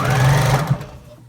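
A sewing machine runs a short burst of top stitching on a fabric water bottle cover, its steady motor hum close and loud before stopping and fading out with a small thump.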